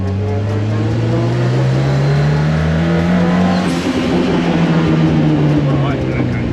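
Cosworth-powered 340 bhp rear-wheel-drive Mk3 Ford Fiesta accelerating from inside the cabin, a loud, steady engine drone rising in pitch over several seconds, then easing and climbing again, with a voice talking over it.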